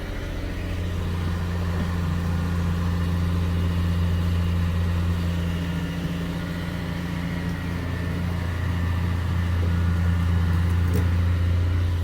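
A car is loaded onto a tow truck while a heavy engine idles steadily and close, a constant low drone with a faint hum over it and no speech.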